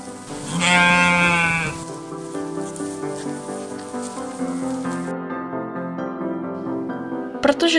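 A flock of sheep bleats at close range, one loud drawn-out bleat followed by softer overlapping calls. A brief sharp noise comes right at the end.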